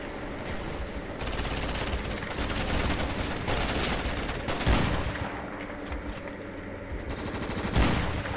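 Gunfire rattles through a modded session of the shooter game Ravenfield, with sustained machine-gun bursts and volleys, loud and close, broken by a few sharper heavy impacts, and no talking over it.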